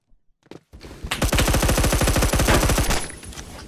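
The M41 rifle in Roblox Phantom Forces fires a long full-auto burst of rapid, evenly spaced shots, loud and close, after a few quiet clicks and handling sounds at the start.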